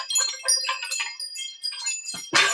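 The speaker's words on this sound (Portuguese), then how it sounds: "esses daqui, que são aqueles sinos de vento, né? Tem esse que é de porcelana, esse que é de metal, esse que é de bambu." Wind chimes of porcelain, metal and bamboo tinkle in quick, bright, overlapping strikes, close and fairly loud, ending with a sharper clang at the end.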